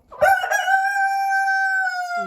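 A rooster kept among purebred chickens on a small farm gives one loud, close crow that holds a long drawn-out note and then breaks off.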